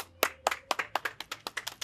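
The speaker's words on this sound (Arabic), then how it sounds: "أحسنتي تصفيق" A children's class claps together in a quick, fairly even rhythm, about a dozen sharp hand claps in under two seconds, close and clear with no talking over them.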